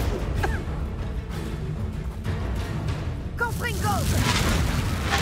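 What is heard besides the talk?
spell casting and explosions in the video game Hogwarts Legacy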